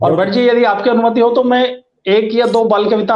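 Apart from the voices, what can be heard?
No distinct noise like a dog, phone or traffic.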